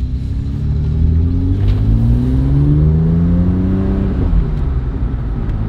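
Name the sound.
BMW E82 135i N54 car driving with new turbos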